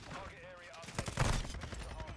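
Rapid bursts of P90 gunfire in Call of Duty: Modern Warfare 2 online play, fast automatic shots crackling through the middle of the clip, with a player's voice talking over the first part.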